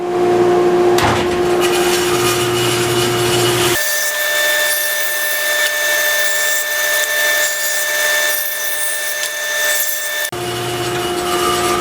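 A bandsaw cuts a wooden pattern piece, a loud steady motor whine and blade rush with a denser cutting roar through the middle stretch before settling back to idle hum, close and with no voices.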